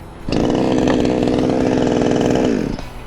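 A cheap APRO petrol chainsaw fires up and idles loudly and close by for a couple of seconds, a raspy two-stroke buzz that then cuts out abruptly.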